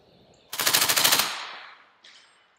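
Full-auto HK MP5 fire through an AB Suppressor F4L: a loud, rapid burst of roughly a dozen suppressed shots lasting under a second, trailing into a fading echo, with a faint short noise afterward.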